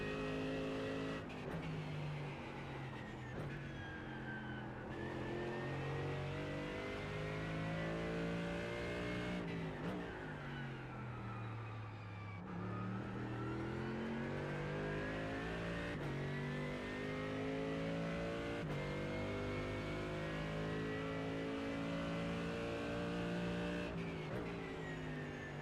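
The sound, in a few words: Mercedes-AMG GT3 race car engine in iRacing video game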